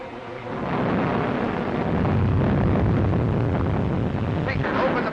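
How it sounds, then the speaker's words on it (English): A dense, continuous roar of heavy rain and rumbling thunder surrounds a life raft at sea in a storm. The sound is loud and unbroken, with a brief brighter crash near the end. "Looks like a storm."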